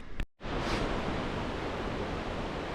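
Rushing river water roars steadily and fairly loud, a broad constant wash like a fast river nearby, after a brief cut at the start, on the Lena Lake trail in the Pacific Northwest.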